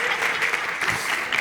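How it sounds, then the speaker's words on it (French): Audience applause at a French comedy stage show, a steady dense wash of clapping filling the whole short stretch with no voices on top. "Et Célébi, applaudissez Célébi."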